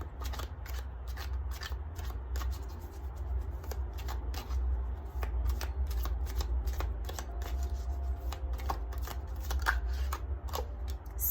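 A deck of cards being shuffled in a quiet room, with rapid riffling flutters and repeated crisp snaps of cards riffled close up, alone without speech.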